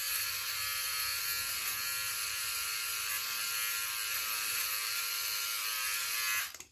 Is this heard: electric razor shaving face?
yes